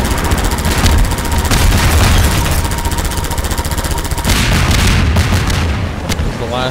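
Sustained gunfire in the video game Half-Life 2, a dense rapid stream of shots with heavy low booms running almost continuously from start to end, loud and close, thinning briefly near the end.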